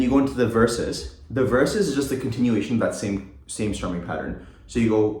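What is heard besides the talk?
None of the usual background noises is heard.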